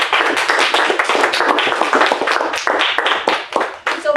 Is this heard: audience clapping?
yes